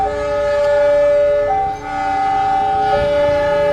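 An electric KRL trainset being shunted at Probolinggo station, moved between tracks for coupling, gives a steady loud electric hum with sustained tonal whine and a brief dip, close by with no talk.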